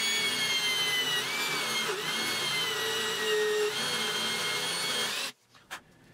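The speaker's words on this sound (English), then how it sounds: "I drilled a hole in both wing supports that will house a leveling foot upside down." A power drill bores a hole into a wooden wing support for a mobile miter station, a steady loud whirring drone for about five seconds that cuts off abruptly, followed by a couple of faint knocks.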